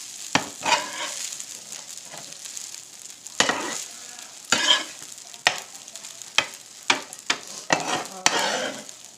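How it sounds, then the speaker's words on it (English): Rice with pepper being stirred and flipped in a hot frying pan: a steady sizzle runs throughout, with repeated scraping strokes of the utensil against the pan at irregular intervals, close and fairly loud, no talking. "we're going to flip it over. Move it around a little bit to mix in all the pepper."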